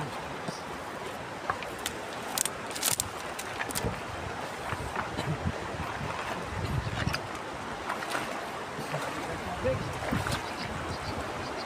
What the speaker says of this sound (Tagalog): Uy, ang lakas ng agos!